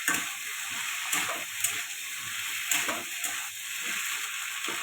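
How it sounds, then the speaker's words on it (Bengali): Ginger and spices sizzle in a pan with a steady hiss, and a spoon scrapes and stirs through them in short, soft strokes. "ঢাকাটা খুলে একটু নেড়ে দেবো।"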